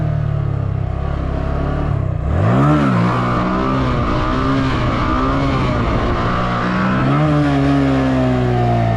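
Motorcycle engine revving loudly and close with choppy, uneven throttle, pitch rising and falling in lurches over steady engine drone.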